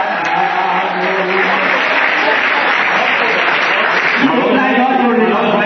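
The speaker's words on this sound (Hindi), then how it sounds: "जोरदार तालियां होनी चाहिए" An audience applauds at a Hindi poetry gathering, sustained clapping at a steady loud level throughout.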